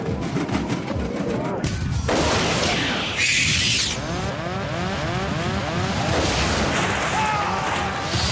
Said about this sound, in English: With a huge explosion, the captain's windscreen blows out into the sky.